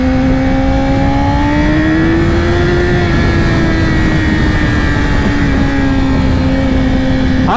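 A 2020 Yamaha R6 motorcycle with a LeoVince Factory S exhaust idles and revs loudly up close, a steady buzzing drone rising slightly in pitch and holding, with no voices.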